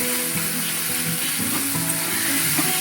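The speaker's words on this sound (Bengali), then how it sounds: "দিয়ে এটা ভালো করে ভেজে নিচ্ছি পেঁয়াজের সাথে।" Onions frying in oil in a pan while making egg curry, a steady close sizzle and crackle with faint stirring scrapes throughout.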